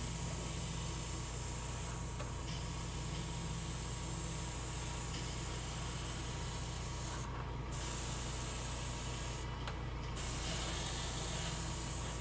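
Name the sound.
airbrush spraying paint on a Space Marine Vindicator model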